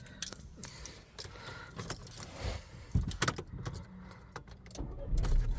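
A car started with its key indoors: keys jangle and rattle throughout, then the engine turns over and settles into a running rumble that swells toward the end, with faint voices in the background.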